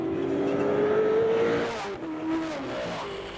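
Race cars, including an Aquila, run along the long straight at Jyllandsringen in a Danish SSC race, with a loud engine drone that holds a steady pitch and then shifts as a car passes close.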